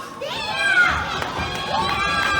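Wrestling show crowd at an independent pro wrestling event, a loud, steady wash of cheering and shouting voices with high-pitched yells rising over the din throughout.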